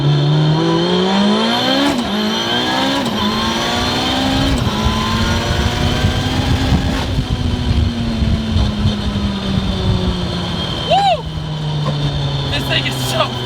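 A 900 hp Mitsubishi Evo accelerating hard, loud engine pitch climbing through gears with sharp shift breaks and turbo whoosh, heard from inside with a voice talking over it.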